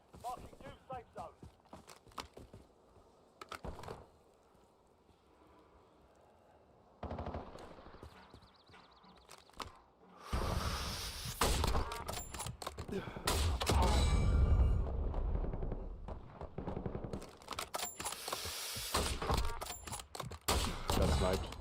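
Gunfire in the Warzone battle royale video game: bursts of rapid automatic shots and cracks, loud in the second half after quieter stretches, with a player talking over parts of it.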